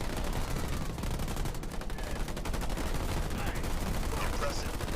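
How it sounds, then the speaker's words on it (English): Heavy sustained gunfire from garrisoned units in the video game Halo Wars 2, a dense continuous rattle of rapid shots layered with booms, loud and unbroken throughout. "It looks like they they put down or put out a lot of heavy fire too."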